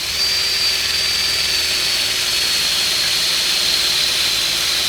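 Power drill boring a hole in a Les Paul Junior guitar body during a restoration, a continuous high whirring motor whine held steady and loud for the whole stretch, with no talking.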